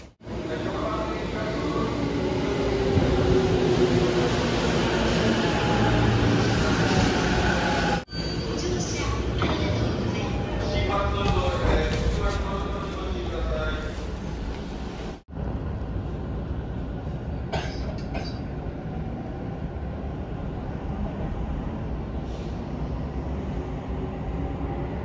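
A Keiyo Line through-service train runs with a loud, continuous rumble of wheels and car noise, shifting in tone across the ride, with a voice speaking over it.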